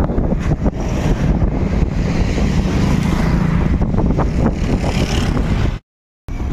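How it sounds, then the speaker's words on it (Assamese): Cold wind gusts loudly at a roadside viewpoint on a road trip to Shillong, Meghalaya, a dense roaring buffet against the microphone that cuts out briefly near the end. "ঠাণ্ডা বতাহ"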